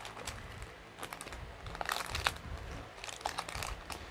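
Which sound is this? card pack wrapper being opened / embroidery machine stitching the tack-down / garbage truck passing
card pack wrapper being opened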